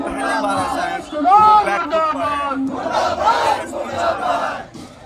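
Protesters gathered at Bihar Bhawan against the Nitish government form a large crowd, voices blending into a loud, continuous roar of shouting and chanting with rising bursts throughout.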